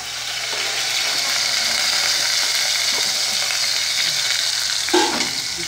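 Half an onion hitting an already hot pan for a quick fish stew, giving a steady, close, bright sizzle that carries on throughout, with a brief clatter near the end.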